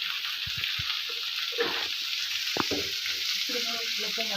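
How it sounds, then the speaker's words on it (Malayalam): Onions being sautéed with salt in a pan for an egg roast, a steady close sizzle with scattered stirring clicks and scrapes throughout. "ഇത് നല്ല രീതിയിൽ ഇങ്ങനെ ഗോൾഡൻ ആ ഒരു രീതിയിൽ വഴറ്റി കിട്ടും"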